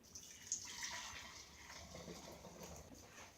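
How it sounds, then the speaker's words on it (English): Homemade mushroom tamari sauce pours through a coarse fabric strainer, a faint, steady liquid trickle and splash lasting a few seconds in a quiet room. "Pour it in there."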